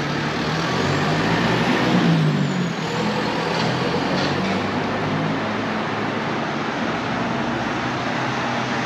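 A bus rides through towns around Manacor, Mallorca, its engine a steady loud drone with road rumble throughout, a brief swell of revving and an air-brake hiss near the middle.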